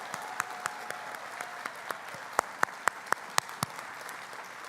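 Scattered applause at a university fall staff assembly for award recipients: a soft wash of clapping with a few sharp, close individual claps standing out near the middle, fairly quiet overall.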